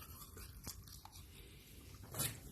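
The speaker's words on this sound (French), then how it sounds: "on brosse tranquillement les canines en insistant bien sur les gencives à l'intérieur" A toothbrush scrubs a dog's canines and gums in soft, irregular brushing strokes, faint and close, with a few sharper scraping bursts near the end.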